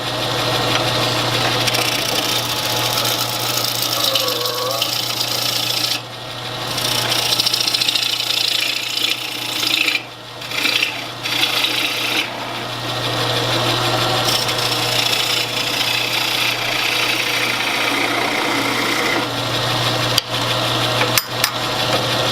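A wood lathe spins a wooden bowl with a steady motor hum, and scraping cuts from the turning tool come and go over it, close and loud, with no talk.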